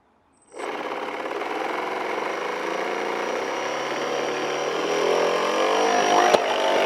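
Electric motor and propeller of a Barbie speedboat converted to RC, run on a 2S LiPo without rudder, starting abruptly into a close, steady high-pitched whine and buzz that rises slightly before a small click near the end.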